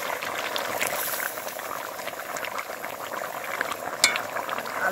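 Deshi chicken curry with potatoes bubbling in a pot after garam masala paste goes in, a steady close simmer of popping bubbles and hiss with an occasional utensil clink.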